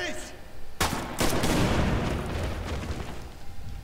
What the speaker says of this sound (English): Penguin taken out by a grenade.